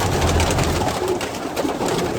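Pigeons in a breeding loft coo steadily in a low, soft chorus that lasts the whole moment, close by and with no voices over it.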